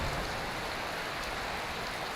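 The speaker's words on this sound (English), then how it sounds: "Oh, it's raining." Steady rain falls in the video game Skyrim, a soft continuous patter with no voices.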